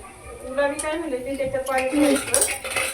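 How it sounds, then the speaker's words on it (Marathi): A spoon scrapes and clinks repeatedly against a pan as red chili powder, onion-garlic masala and salt are mixed into bhurji. The metallic stirring is close and continuous, with some voice-like sound mixed in. "सगळं व्यवस्थित हलवून आणि मिक्स करून घेतलं"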